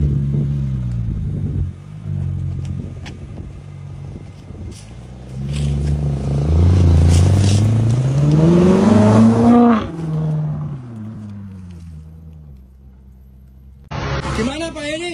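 A car engine revs and accelerates hard, its pitch sweeping upward to a loud peak before falling back, with a second burst near the end; people talk over it throughout, at a used-car dealer.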